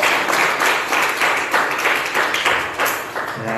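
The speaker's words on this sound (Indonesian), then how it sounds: "Tepuk tangan untuk Tuhan." A live audience applauds during a spiritual sermon, with a dense, steady wash of many hands clapping at once, loud and sustained with no voices over it.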